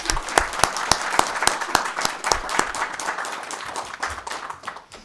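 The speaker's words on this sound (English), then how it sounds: "Please give him a round of applause." An audience at a board meeting applauds, a close, continuous burst of many hands clapping that fades slightly toward the end.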